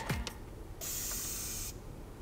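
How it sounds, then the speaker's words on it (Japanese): A trigger spray bottle fires a single close, steady hiss lasting about a second, preceded by a couple of faint handling clicks in a quiet room. "ではここでスプレーしてみたいと思います音聞いててくださいね"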